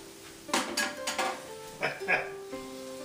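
A utensil clanks and scrapes against a non-stick pan where garlic is frying, a few quick metallic knocks in two bursts over a faint sizzle, close up.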